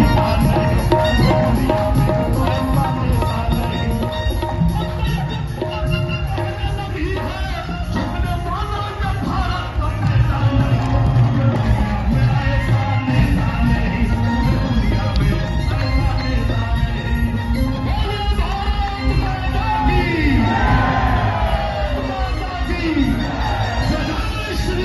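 A large crowd cheers, whoops and claps for Prime Minister Narendra Modi at a public event with an MP. The loud, dense roar holds steady for the whole stretch, with shouts rising out of it.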